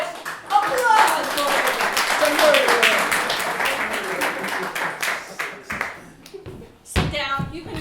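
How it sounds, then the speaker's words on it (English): An audience at an improv comedy show applauds, a dense wash of clapping that swells loudly at the start and gradually thins out, with cheering voices over it and a performer speaking at the end. "Applause!"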